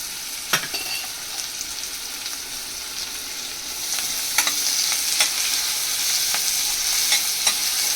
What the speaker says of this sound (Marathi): थोडंसं मीठ टाकूया आणि कांदा जरा लालसर नरम होईपर्यंत परतूया आपण